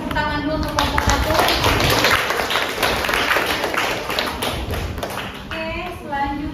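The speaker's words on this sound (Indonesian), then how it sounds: "Boleh kita kasih tepuk tangan dulu untuk kelompok 1." An audience claps for a presenting group at an academic teaching session, a steady wash of applause that holds for several seconds and fades toward the end, with voices audible underneath.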